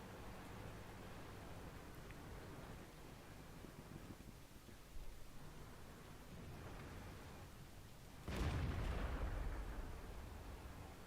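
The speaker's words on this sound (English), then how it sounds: "you can hear the heat being fired at us" High-explosive anti-tank (HEAT) shells fired at a tank in World of Tanks: a low, faint rumble of battle ambience, then one heavy blast near the end that booms and slowly fades.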